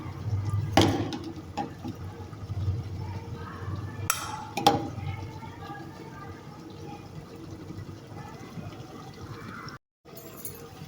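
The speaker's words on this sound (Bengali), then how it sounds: "এটা দিয়ে বেরেস্তাটা মাখায় রাখবো।" Fried onion beresta being mixed with ghee for Old Dhaka-style beef tehari cooked with mustard oil: soft, quiet scraping and clinking of a spoon against a bowl, with a few louder knocks and a little talking.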